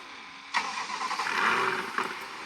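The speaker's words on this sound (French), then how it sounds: "J'aime pas ces corvettes, ces démarrages." Corvette engine in the Drive World game cranks and fires up abruptly after a quiet moment, then settles into a loud, steady rumbling idle with a brief blip of revs near the end.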